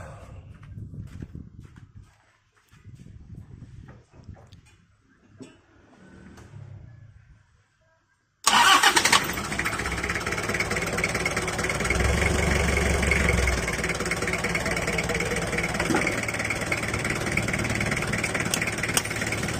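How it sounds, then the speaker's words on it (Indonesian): Low voices talk quietly before a car engine, being tuned via its injection pump, cranks and fires abruptly, then settles into a loud, steady close-up idle for the rest of the time. "coba Win minta tolong di starter"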